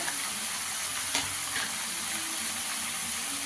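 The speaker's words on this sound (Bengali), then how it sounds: "ছোট ছোট দুটো টমেটো দিয়ে একটু ভালো করে ভেজে নেব" Small tomatoes frying in a pan give a steady, close hiss and crackle that runs unbroken from start to finish, with no voices over it.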